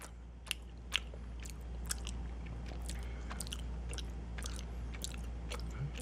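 Someone chewing a mezcal worm candy close to the mic, with a few sharp bites early on followed by steady small crunches and smacking over a constant low background hum.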